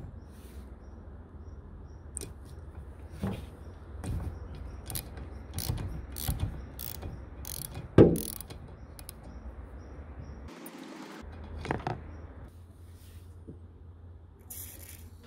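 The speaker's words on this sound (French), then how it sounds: "Douille de 13 et vous démontez." A 13 mm socket wrench unscrews a wiper mechanism part on a Seat Leon TDI, close ratcheting clicks in irregular bursts with metallic knocks and a brief louder clank midway.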